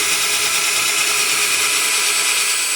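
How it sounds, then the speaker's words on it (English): A power drill boring through wood backed by a scrap wood block while fitting a kitchen cabinet drawer pull, one loud steady whine held for nearly three seconds before cutting off abruptly. "Drilling with a piece of wood in the back makes it nice and clean."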